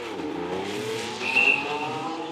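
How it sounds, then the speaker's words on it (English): A race car skids on a patch of oil during a practice run at the Monaco Grand Prix, with a loud engine roar and a sharp tire squeal rising in the middle, close and alone without talk. "It skidded on a patch of oil."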